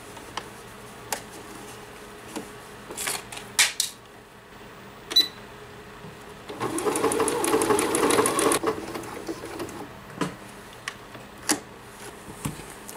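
Sewing machine with a buttonhole foot stitching buttonholes: scattered clicks and taps, then a sustained close whirring run of stitching for about two seconds, followed by more isolated mechanical clicks.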